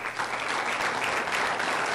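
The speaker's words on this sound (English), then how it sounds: "Don't clap for me, clap for them." An audience at a college student achievement awards ceremony applauds steadily, a dense wash of clapping filling the room for a couple of seconds with no speech.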